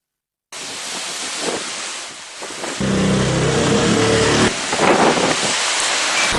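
Strong wind blows hard along a coastal area, gusting in heavy, continuous roaring waves with a deeper surge midway, loud and close, and no voices.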